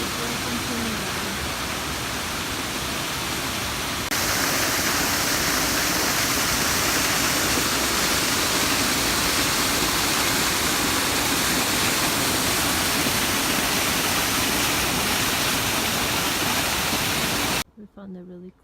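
A waterfall in Germany's Black Forest roars steadily and loudly up close, a dense unbroken wash of rushing water that swells slightly partway through and then cuts off abruptly near the end.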